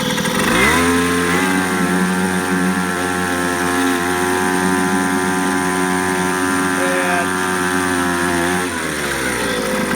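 A Seahorse 3.5 HP outboard motor run at full throttle in a 30-gallon tank, a steady high buzzing whine held nearly constant, close and loud, easing off at the end.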